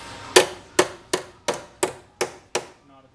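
Seven sharp, evenly spaced hammer taps ring out against a sheet metal flange on the bottom of an Austin Healey body panel during restoration, close and clear with short metallic decays and no talking.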